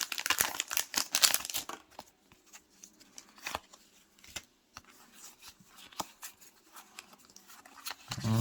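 A Pokémon trading card pack from a Destinées Radieuses box is torn and peeled open, with sharp crinkling foil and tearing bursts up front, then softer scattered rustles and clicks as the cards are handled.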